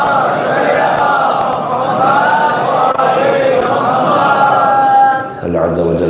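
A congregation at a majlis in a Kuwait mosque chants salawat in unison, a loud, sustained wave of many voices lasting several seconds before it breaks off.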